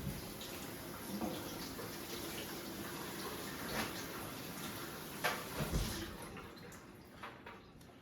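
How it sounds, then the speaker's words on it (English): Water runs steadily over a head of cauliflower as it is rinsed, a continuous hiss of tap flow with soft splashes and a few louder splatters near the end, fairly close and without talk. "we're gonna take our cauliflower and we're just gonna wash that a little bit"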